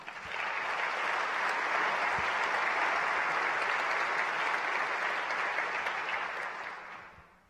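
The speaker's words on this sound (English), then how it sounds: "That's worthy of an applause." A large conference audience bursts into applause, a broad, even roar of clapping that swells quickly, holds steady for several seconds and then tapers away at the end.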